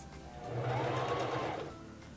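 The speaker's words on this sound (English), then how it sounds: "turn the stitch selector dial back to the number 4 and sew for about 6 to 8 stitches" A Singer Fashion Mate 3333 sewing machine runs through a short burst of stitches, a close whirring hum that rises, holds for about a second and winds down, with no voices.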